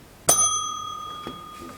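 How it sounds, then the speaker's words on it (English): A notification bell sound effect, a single bright metallic ding that rings on with a long sustained tone, then a faint second tap. "and also ring the bell"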